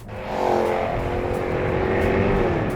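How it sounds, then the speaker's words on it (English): A Jaguar F-Type R Coupe's 5-litre supercharged V8 swells into a loud, rising roar within the first half-second, then holds a strong, steady bellow with a clear climbing engine tone. "It's a car dominated by that big 5-litre supercharged V8 and this sound."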